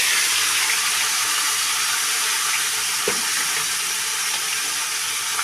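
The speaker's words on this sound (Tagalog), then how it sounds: "para po madaling makaluto, nagprito po ako" Food frying in a pan during home lunch cooking, a steady close hiss of sizzling oil with a faint clink near the middle.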